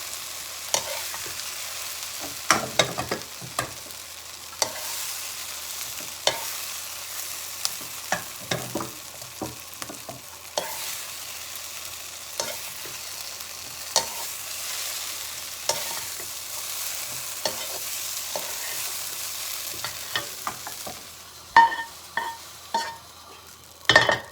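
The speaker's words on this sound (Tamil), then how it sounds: "இப்போ இன்னும் கொஞ்சம் வதங்க விடலாம்." Ingredients sautéing in a pan for a chicken wrap, a soft continuous sizzle punctuated by repeated scraping stirs of a utensil, louder clanks near the end.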